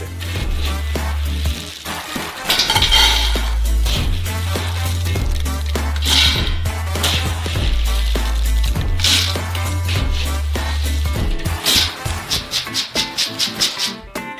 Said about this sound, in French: Donc le premier lot de cacahuètes est définitivement prêt. Versez-le dans notre marmite.